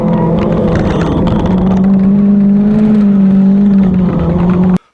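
A Nissan 240 drift car, just back from a clutch failure, revs steadily on a test run with a loud, close engine drone holding a sustained pitch for several seconds before cutting off abruptly.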